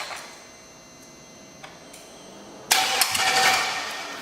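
An LS turbo engine in a Miata kart cranks with faint ticks before catching abruptly into a loud, rough running burst with sharp pops near the end.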